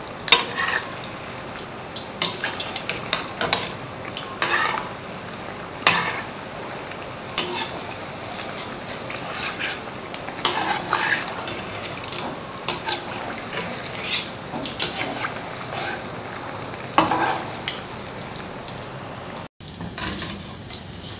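Food fries in oil in a pan on a home kitchen stove over moderate flame, with a constant close sizzle broken by repeated scrapes and clinks as it is stirred and turned.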